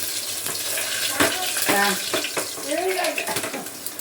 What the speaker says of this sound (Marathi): द्या ना कढीपत्ता धुवून द्या ना